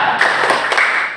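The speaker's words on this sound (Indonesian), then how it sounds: "Coba kita tepuk bismillah dulu." Children in a Qur'an Hadith classroom do a short rhythmic clap, a quick cluster of a few claps landing together over a brief second.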